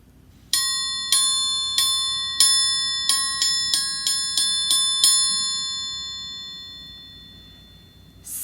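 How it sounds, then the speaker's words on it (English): An orchestral triangle sounds a string of about a dozen bright metallic strikes in an uneven rhythm. The ringing shimmer hangs and slowly fades afterward, close and clear with no voices. "A triangle"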